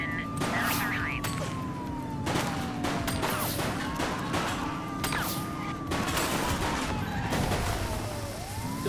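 Gunfire in The Precinct police video game crackles in scattered bursts over a wailing police siren that rises and falls, with radio chatter and voices mixed in, all fairly faint.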